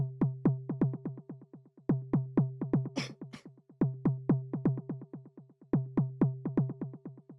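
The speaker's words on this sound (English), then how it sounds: "So the next thing that we have here is this little tom sound," A synthesized tom-like percussion hit made with Ableton Operator plays in a steady, quick repeating pattern over a pounding kick, loud and close, with two short noisy bursts midway and no talking.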